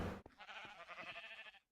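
A sheep bleats in a sheep pen in a Minecraft-style farming video game, one short, wavering call that is faint and quiet.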